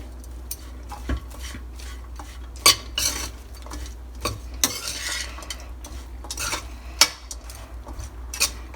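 Lemon rice being stirred in a pan with a metal spoon, giving repeated scraping clinks and soft shuffling of grains in an uneven rhythm, close and clear with no talking.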